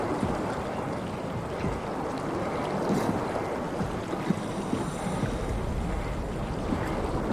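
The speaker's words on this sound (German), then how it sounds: "Aber es ist ganz schön windig da unten," Wind roars in the horror game SOMA as a dense, continuous rumbling gust with a whooshing, surf-like texture, steady and fairly loud throughout with no voices.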